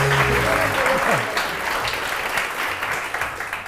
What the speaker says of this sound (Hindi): बहुत सारी तालियां डॉक्टर लवली के लिए।